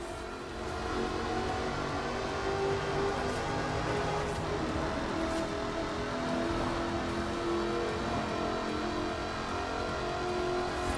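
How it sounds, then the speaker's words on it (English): Supercharged 5-litre V8 of an aluminium-bodied sports car in Forza Horizon 4 drones steadily and loud for the whole stretch, a sustained engine roar with no clear revving peaks. "Powered by a 5-litre V8 supercharged engine. With a fully aluminium body, it's blisteringly fast"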